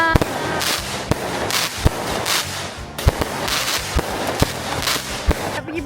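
Fireworks and firecrackers go off at home during Raya 2026 celebrations, a string of sharp bangs and crackles at irregular intervals over a busy background of hissing and sparkling.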